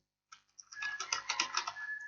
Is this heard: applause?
no